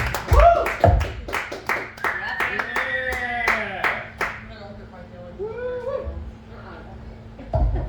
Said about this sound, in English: start clapping for Bryan, Fink